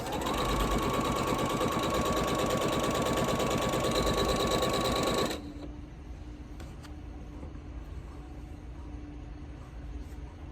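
A sewing machine stitching a quarter-inch seam on a quilt block, running in a fast steady whirring drone for about five seconds, then stopping abruptly, leaving faint background noise and light clicks.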